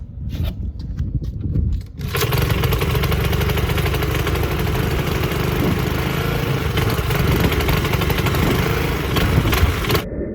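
A Honda GCV160 small engine with a surging, hard-starting fault after carburetor cleaning fires up after a few brief pulls and then runs loud and steady, a close continuous buzzing drone.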